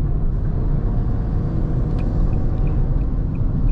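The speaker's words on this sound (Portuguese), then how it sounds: "eu sempre gostei desse ronco do motor 3 cilindros" A Fiat Argo Drive 1.0 6V 2020 with a three-cylinder engine cruises through city streets, heard from inside as a steady low rumble of engine and road noise without talk.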